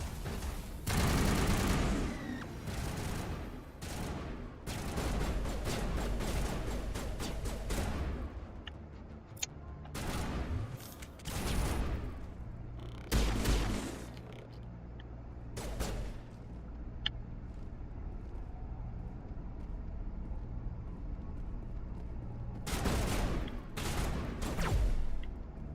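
Heavy gunfire from Spectre weapons in Mass Effect Legendary Edition comes in repeated rapid bursts and volleys over a rumbling combat background, with brief pauses between flurries and a final cluster of shots near the end.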